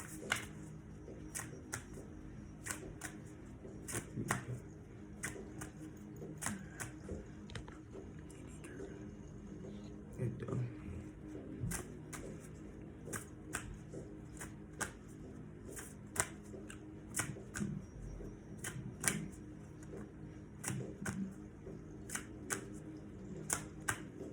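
Oracle cards are shuffled and drawn from a deck, making a steady run of crisp, close riffling clicks and soft slaps over a quiet room, with a person speaking softly at times.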